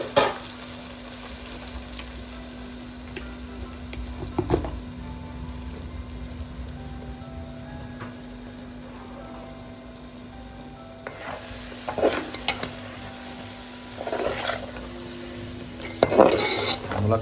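Drumstick and egg curry stirred in a frying pan, with steady low sizzling and scattered clinks of a utensil against the pan, a few louder scraping bursts near the end; no talking.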